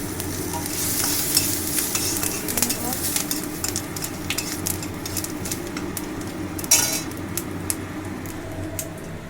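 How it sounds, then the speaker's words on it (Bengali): Bay leaf, dried chilli and five-spice seeds sizzle and crackle in hot oil for a Bengali crab and giant taro curry, with a loud steady hiss, sharp pops and occasional utensil clinks up close. "তেজপাতা শুকনা লঙ্কা ফোড়ন পাঁচফোড়ন"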